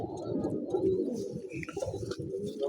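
Domestic pigeons cooing in a loft of flying-cage hens, a dense, continuous layered murmur of low throaty coos from many birds close by, with no talk.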